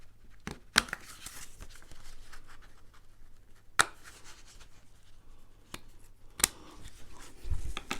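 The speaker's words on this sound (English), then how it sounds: "I'm just going to cut that star out at the top." Scissors cutting a paper star out of a card for a pop-out Christmas card, soft close snipping and paper rustle punctuated by a few sharp clicks of the blades.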